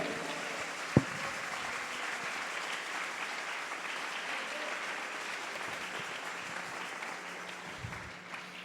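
A church congregation claps steadily for several seconds during a spiritual warfare sermon, a dense continuous wash of hands with one sharp knock near the start, no talk over it.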